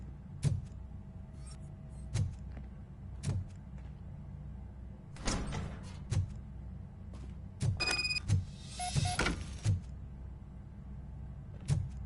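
A door opens in the RoboCop: Rogue City video game, with a mechanical whir and clank amid a repeating low thudding pulse, sharp electronic chimes, and bursts of metallic noise at moderate volume.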